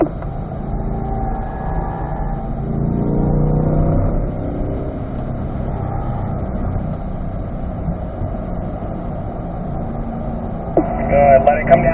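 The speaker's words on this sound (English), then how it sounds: "Once you're in the corner, off the brake, and then give it a little throttle" A C8 Corvette on the track at Spring Mountain Raceway gives a steady engine drone that swells as the throttle is fed in mid-corner, with an instructor talking over the cabin noise throughout.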